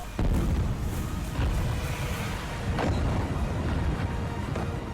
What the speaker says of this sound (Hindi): धमाके की गूंज बता रही है हमला कितना घातक होगा।